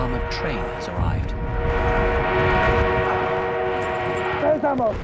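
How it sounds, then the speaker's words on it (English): An enemy armored train rolls in amid a Battlefield 1 battle on the Amiens map, a steady loud mechanical drone with sustained tonal hum and horn-like tones over constant combat noise. "An enemy armored train has arrived."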